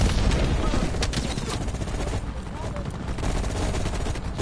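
Rapid automatic AK assault rifle fire in the shooter game Call of Duty Cold War, dense overlapping bursts filling the whole stretch, loud and close with booming low end, a voice briefly mixed underneath.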